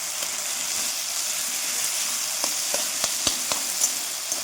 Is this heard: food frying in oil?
yes